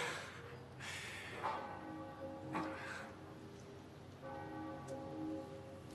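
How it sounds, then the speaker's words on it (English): Church bells toll faintly in the distance, a few resonant strokes spaced a second or so apart, each ringing out and fading over a soft background hiss. "The church bells are ringing."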